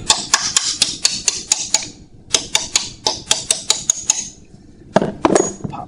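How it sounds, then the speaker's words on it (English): Sharp metallic hammer taps on a steering gearbox bolt during stock steering removal, struck in quick regular bursts of about a dozen blows, a pause, another run, then a heavier clank near the end; close and loud, no talk. "Tap this bolt with a hammer."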